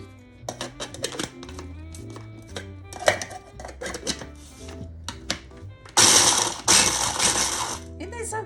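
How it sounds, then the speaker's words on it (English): Rapid clattering chops from an electric food chopper chopping strawberries in short bursts, then a louder steady whirring grind near the end, close by. "so I'm going to chop these up really fine"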